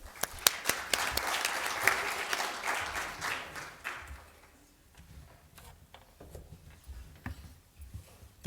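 Applause from a conference audience welcoming the speaker: many hands clap together, loud and dense at first, then thin out into a few scattered, fainter claps before dying away.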